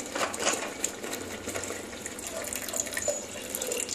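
Water is poured into cooked sour dal made with green mango, giving a close, continuous splashing trickle over a few seconds with no talk.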